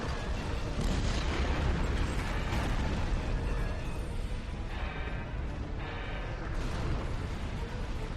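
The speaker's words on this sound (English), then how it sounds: "Detonating charges." Detonating charges in Star Trek Online make a continuous heavy rumble of explosions with deep booming bursts, loud and sustained throughout without letup.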